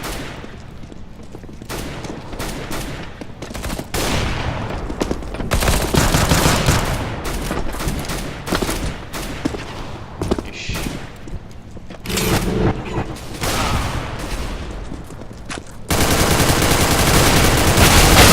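Gunfire rattles in Counter-Strike: Global Offensive, with dense bursts of rapid shots and sharp cracks trading back and forth loudly. A steadier, harsher roar fills the final couple of seconds.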